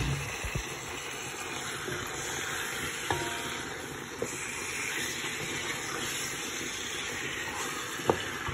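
Chicken for biryani sizzles and fries in a pot, a steady hiss with a few sharp clinks of a utensil against the pot, no talking.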